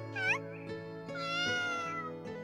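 A cat in the dating game Tokimeki Memorial Girl's Side gives a few drawn-out, wavering meows, near and fairly loud, with a higher squeaky call first and a long rising-falling meow in the middle.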